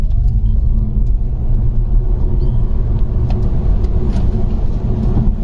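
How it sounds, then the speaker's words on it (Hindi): A BYD Seal electric car accelerating hard during a 0-100 km/h test, giving a loud, continuous low road rumble and tyre roar that holds steady throughout with no voices. "हम उसको भी चेक कर लेते हैं और देखते हैं कि 0 to 100 ये गाड़ी कितने में करती है"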